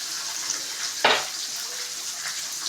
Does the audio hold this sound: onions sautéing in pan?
yes